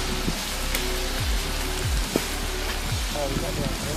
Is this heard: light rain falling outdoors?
yes